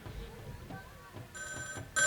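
A phone rings with short electronic tones near the end, cutting in over a background of low voices and room noise.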